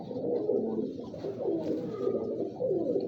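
A Kalu Baloch breed pigeon coos close by in soft, repeated throaty rolls, steady and alone with no talk.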